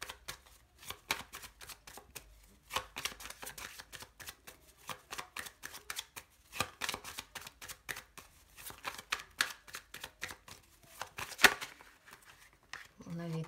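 Cards are shuffled for a card reading: soft, rhythmic riffles and papery flicks repeat in quick close bursts, fairly quiet, with a few sharper snaps near the end.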